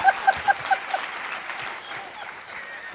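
Audience clapping at a Hindi political comedy show, scattered claps rising over a crowd that then settles into a softer, diffuse murmur of applause.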